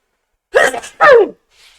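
A single sharp two-part sneeze, a quick intake then a loud burst, close to the microphone with silence around it.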